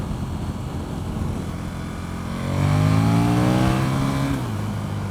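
A 2014 KTM 1290 Superduke R accelerates on a group ride, its engine note climbing sharply in pitch over wind rush before easing off, fairly close and loud.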